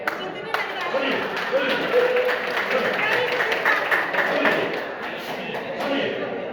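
An audience claps at a talk held in Hindi, a burst of many hands applauding together at close range, with a voice speaking over the clapping.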